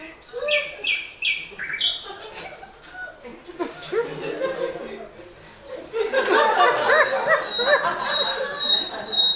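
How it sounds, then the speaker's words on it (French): Birds chirp and tweet in quick repeated phrases, later joined by a busier chorus of song, with a person's soft chuckling in between. "Ah mais François, ce sont les oiseaux."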